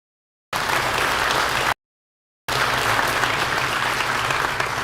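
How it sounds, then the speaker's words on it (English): Audience applause at a county sheriff candidates' forum in a school facility, heard in two sustained bursts of dense, steady clapping separated by a brief gap of silence, with no talk over it. "Let's give them a round of applause."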